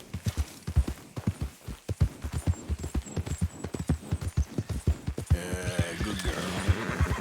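Horse hooves clip-clopping at a steady gallop while riding in the video game Red Dead Redemption 2, a continuous rhythmic pounding with a brief whinny-like tone and a shift in background texture near the end, no talk.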